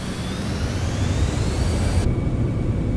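Citation X jet engines roaring on thrust reverse during landing rollout in Microsoft Flight Simulator 2024, a loud steady broadband rush with a rising whine whose high end drops off abruptly partway through, with no talking.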